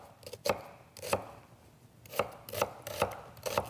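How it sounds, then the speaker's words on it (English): A knife chops an onion on a flat cutting surface in crisp, close, evenly spaced strikes, roughly seven in a few seconds, with brief pauses between bursts and no talking. "cut your onion into smaller pieces."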